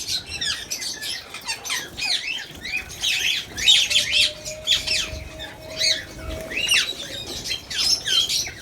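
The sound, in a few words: Gouldian finches calling in breeding aviary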